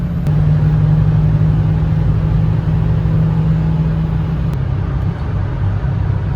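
A Ford 6.0 Powerstroke diesel truck engine drones steadily while the truck rolls down the road. The rumble is loud and constant, with a fairly even pitch and no big revving.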